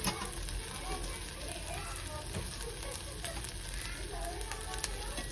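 Onions sizzle steadily in a hot pan, nearly softened, for dhaba-style Malvani chicken; a continuous close frying hiss with occasional soft pops, with no talk over it.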